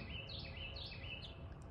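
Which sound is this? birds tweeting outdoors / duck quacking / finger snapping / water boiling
birds tweeting outdoors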